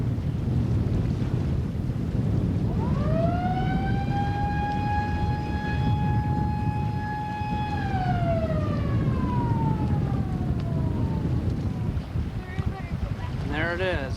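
A long rising-then-falling siren wail at a ferry docking port over heavy wind and engine rumble, sustained for several seconds, with a brief chirping tone near the end.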